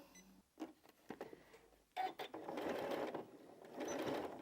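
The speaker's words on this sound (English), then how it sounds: "and then I'm going to back stitch" A sewing machine back stitches a zip onto a cushion. It starts with a few short, quiet stitching bursts, then runs in a sustained whirring rattle, fairly soft and close.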